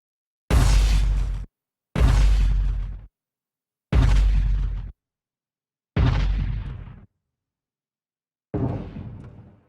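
Five separate booming explosions spaced a couple of seconds apart, each a heavy burst with a short decaying tail. The last is fainter and more muffled, its lowest and highest frequencies dissipated by distance.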